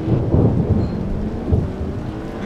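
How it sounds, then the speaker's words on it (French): Thunderstorm in the racing game Forza Horizon 2, loud rumbling thunder rolling over steady rain, heard without talk. "Et les orages."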